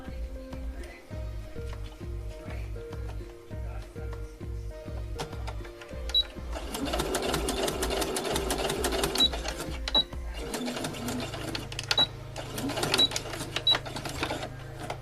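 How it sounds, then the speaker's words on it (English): A sewing machine stitches small pieces of fabric into doll socks, a steady close rhythmic thumping that speeds into a faster continuous run, backstitching at the ends of the line, with no talk. "At both the beginning and the end of this line I've done a couple of back stitches"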